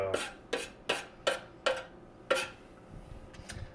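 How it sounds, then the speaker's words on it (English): A knife blade scraping a cutting board clean while making salsa cruda, a run of six sharp, evenly spaced scrapes up close, followed by softer clatter. "I know I'm not supposed to be cleaning off the cutting board with the knife"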